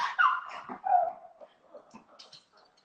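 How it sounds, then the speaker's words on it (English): A dog gives a few short barks and yips, followed by softer whimpering sounds, at moderate distance with no talking. "Oh, the dogs are barking."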